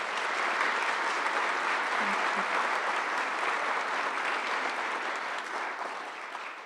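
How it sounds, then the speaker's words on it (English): Sustained applause from a large audience at a graduation ceremony, steady and dense for the whole stretch, easing slightly toward the end. "Can y'all please give him another round of applause?"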